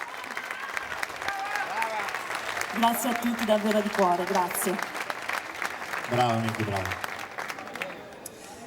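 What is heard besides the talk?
audience applause at an orchestra concert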